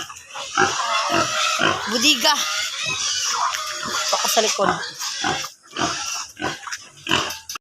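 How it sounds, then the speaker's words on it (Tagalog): Many noisy pigs kept at home oink and squeal repeatedly at close range, a dense stream of grunts and sharp squeals, while a person speaks briefly among them. "Daming maingay na baboy."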